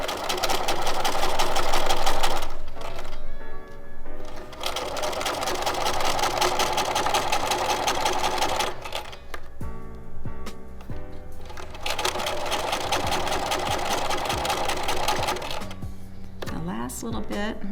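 A home sewing machine stitches a seam in several loud, fast bursts of whirring needle motion, broken by brief pauses and faint handling sounds between runs.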